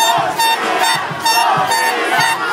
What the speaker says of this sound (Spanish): Un aplauso fuerte para las representantes de la belleza gay latina 2011, por favor, un aplauso para todas ellas